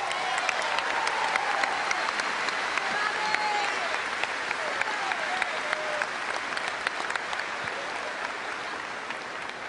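A crowd at a University of Hawaii women's volleyball post-match celebration gives sustained, dense applause to assistant coaches Robin Amo and Scott Wong, with steady clapping filling the hall from start to finish.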